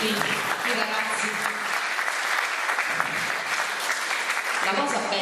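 Sustained loud applause from a large crowd, dense continuous clapping throughout with a few cheers mixed in.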